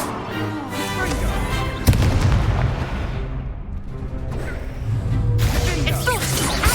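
Spell-casting explosions and impacts from the video game Hogwarts Legacy, a dense run of booms, crashes and blasts layered over game effects, with a louder hit near two seconds and shouted incantations nearby.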